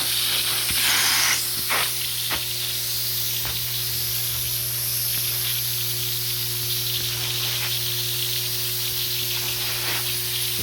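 A cleaning machine spraying and rinsing upholstery produces a loud, continuous hiss over a constant motor hum, steady from start to finish with a few small spurts and clicks.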